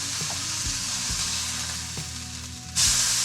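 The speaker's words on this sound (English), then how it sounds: "Seared on both sides." Round steak searing in a hot pan, a loud close continuous sizzle and hiss with a few low knocks, jumping to a brighter, sharper spatter near the end.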